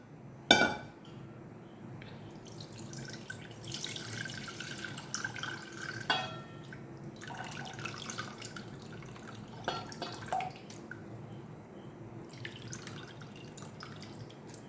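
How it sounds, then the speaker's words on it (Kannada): Water draining and dripping from washed flattened rice (poha) in a kitchen, with a few light clinks of a glass or metal vessel and a soft steady trickle throughout. "ಇನ್ನೊಂದು ಬಾರಿ ಹೀಗೆ ನೀರು ಬಸಿಯೋದು"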